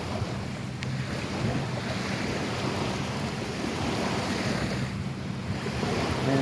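Surf rolls in continuously at Fort Myers Beach, a loud, steady wash of breaking waves with wind noise on the microphone and no speech.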